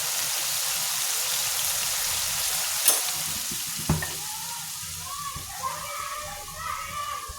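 A river bajira fish curry sizzles and bubbles steadily in the pan, with a few utensil knocks and light stirring, while a voice talks over it.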